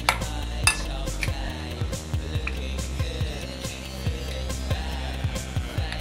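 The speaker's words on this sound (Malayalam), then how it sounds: "ഇനി നമുക്കിത് നന്നായിട്ടൊന്ന് മിക്സ് ചെയ്തെടുക്കാം" A spoon clinks repeatedly against a bowl while a pizza topping of egg, chili flakes and sauce is stirred together, in a quick, uneven rhythm of close metallic taps.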